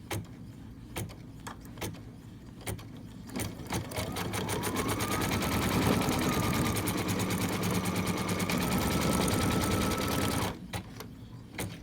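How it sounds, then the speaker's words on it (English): Sewing machine stitching a quilt piece down in place, a steady continuous whirring run of several seconds starting and stopping with small clicks, close and alone without talk. "I'm going to kind of hold it, and then it'll sew it down"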